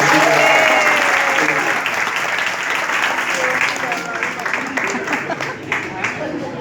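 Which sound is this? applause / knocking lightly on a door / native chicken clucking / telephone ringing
applause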